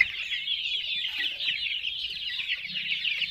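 Steady high-pitched chirping and clucking from a group of joper chicks or chickens in a flooded coop, continuous and fairly close, with no talking.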